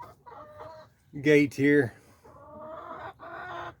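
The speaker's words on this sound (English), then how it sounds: "those hens will start squawking because they can't get in and lay their egg" Hens squawk in two loud, close, harsh bursts, with softer clucking before and after and someone speaking briefly.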